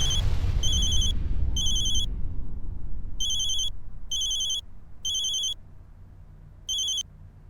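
Electronic telephone ring repeating in short bursts, six or so rings spaced across the clip over a busy indoor household background that fades toward the end, with no one speaking.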